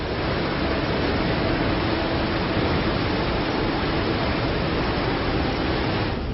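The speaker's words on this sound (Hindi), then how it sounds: "आगे बढ़ने से पहले हम आपको उफनती नदी के पानी के शोर को सुनाते हैं" A swollen, flooding river in Assam roars continuously, a dense, even wash of rushing water with no pauses or voices.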